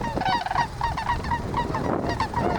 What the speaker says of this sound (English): sandhill cranes were sounding off